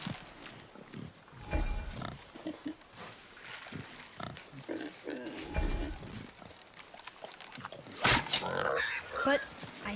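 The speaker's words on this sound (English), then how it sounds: "The wild boar's hide is thick." Wild boar in the God of War video game grunting and squealing in short snorting bursts, with a sharper squeal near the end, alongside game voices talking.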